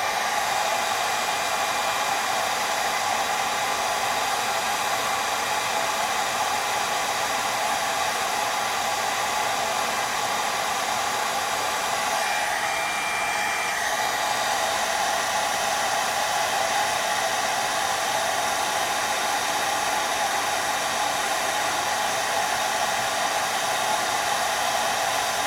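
A heat tool blows steadily and loudly onto embossing powder for stamping, a constant close whooshing roar with no pauses, with only a faint dip midway.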